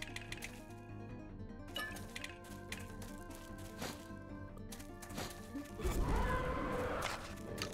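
A Doom 2 teleport burst lands near the end: a sudden loud broadband whoosh with a sweeping, warbling tail, cutting through steady game music and clanking ambience.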